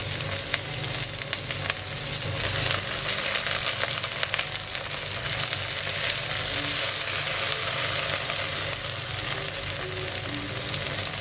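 Browned onions sauté with chopped tomato and ginger garlic paste for a Kerala beef roast, giving a steady, close sizzle with crackling frying noise that runs evenly throughout.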